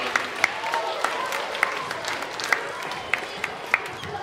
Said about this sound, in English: let's give each other a nice, huge round of applause